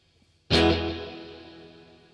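Guitar chord struck once through a Boss GX-10 multi-effects unit with delay switched on, a sharp attack followed by a long ringing tail that slowly fades.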